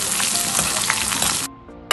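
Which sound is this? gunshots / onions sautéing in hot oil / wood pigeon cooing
onions sautéing in hot oil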